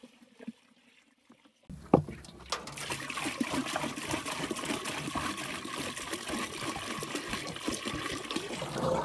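Water pours and splashes steadily into a container as it is filled for homemade fertilizer, a close, continuous gurgling rush starting after a quiet moment and carrying on without speech.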